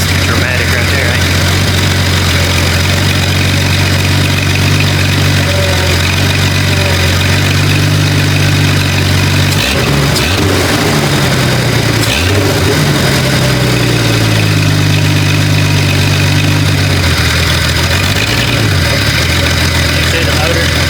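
A freshly rebuilt car engine idles after its first start following a four-month rebuild, a loud, continuous low rumble with a few uneven surges and dips midway, running rough but steady throughout.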